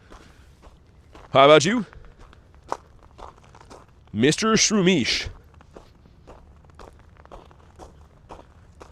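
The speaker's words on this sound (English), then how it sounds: "Got lots and lots of crunchy snow for you guys to hear." Crunchy footsteps in snow sound faint and close in a steady series of short crunches, broken twice by bursts of talking.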